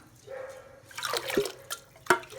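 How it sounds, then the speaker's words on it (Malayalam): Small splashes and drips as washed matta rice drops into water in a pressure cooker, a few distinct plops near the end over a quiet background. "അരി നന്നായി കഴുകി നമുക്ക് വെള്ളത്തിലേക്ക് ഇട്ട് കൊടുക്കാം"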